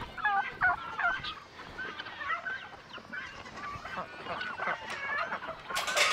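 Chickens cluck and murmur in a small group nearby, with a scattering of short squawks over a soft outdoor background.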